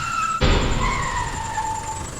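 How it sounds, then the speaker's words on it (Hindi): A car on a highway slams into something with a sudden heavy impact, as a high tyre screech rises around the crash and trails off over the next two seconds. "गाड़ी से टकराने की उस भयंकर आवाज को सुनकर मेरा दिल झट से ही बैठ गया था।"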